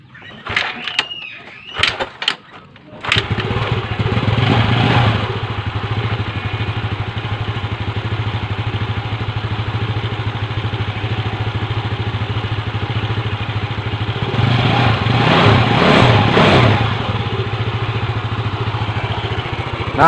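A Yamaha Mio scooter with a Mio J cylinder head fitted starts up after a carburetor service. A few sharp clatters come first, then the engine settles into a steady idle that is close by and loud, with a short rev near the end.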